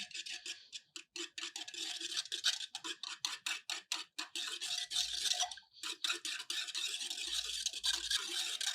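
A spoon stirs ragi porridge mixture in a bowl with quick, rhythmic scraping strokes that repeat steadily and close up, with a few brief pauses.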